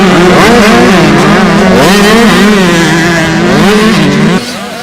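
A pack of 85cc and Pro Mini motocross bikes races at a national MX round at Phakisa MX Park. Their engines rev loud and close in a continuous, overlapping whine that rises and falls as the riders shift, then drops away near the end.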